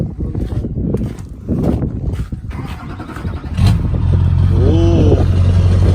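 A crushed Duramax LB7 diesel truck engine settles into a loud, steady idle drone partway through, after a stretch of windy, rumbling handling noise.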